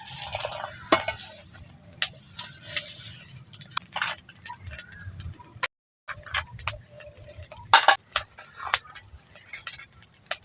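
Papad and raw chips dry-fried in hot salt in a pan, with scratchy stirring, rattling and crackling bursts at an uneven rhythm, close up and with no one talking.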